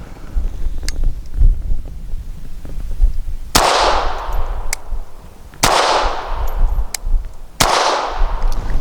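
Close, loud pistol shots from a Bersa Thunder 380 with a threaded barrel firing Hornady Critical Defense rounds outdoors. Three sharp reports about two seconds apart each ring out into a decaying tail, with faint clicks and handling noise between them.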